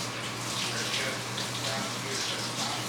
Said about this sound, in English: Let me wash my hands and then we can put these in the oven.